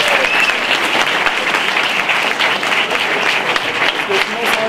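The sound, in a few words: audience applause in theatre hall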